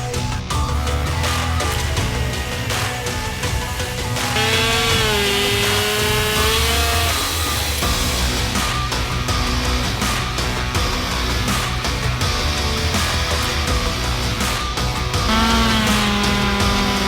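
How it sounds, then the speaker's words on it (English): Two chainsaws run side by side while cutting a tree from its narrowest part toward the thickest, giving a loud, sustained engine whine that rises and falls in pitch as each cut bogs and revs. "I'm gonna take both chainsaws, I'm gonna work my way from the narrowest part of this tree all the way up to the thickest part"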